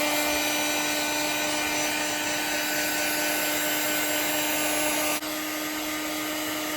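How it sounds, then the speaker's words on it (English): A heat gun blows steadily and loudly on Honda CBR900R SC28 carburettor parts, a constant hot-air roar with a high whine and a slight dip in tone near the end. "I'm going to use the heat gun and heat them up and see if we can prise them off"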